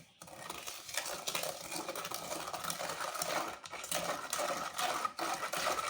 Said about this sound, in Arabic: يلا هاد الكريمه حركها مزيان